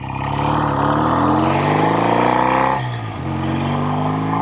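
A 1965 BSA Thunderbolt 650 motorcycle engine pulls hard while being ridden, its loud, close exhaust note rising steadily in pitch, dipping briefly at a gear change, then climbing again.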